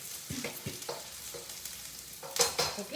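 Onions stir-fried in a pan for vegetarian Hakka noodles: soft sizzling with repeated scraping stirs, quiet and close, louder clatter toward the end, no voices.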